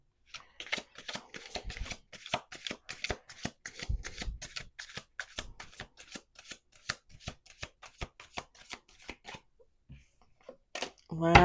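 Close-up card shuffling: a long run of rapid, crisp riffles and bridge snaps, repeated steadily, ending with a louder final shuffle.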